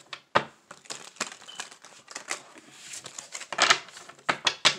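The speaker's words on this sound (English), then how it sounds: "One last shuffle." A Thelema tarot deck being shuffled by hand, a close run of quick papery riffles and crisp card snaps in uneven bursts, with no talking.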